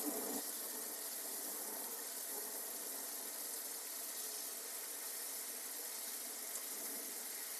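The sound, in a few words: water running from a valve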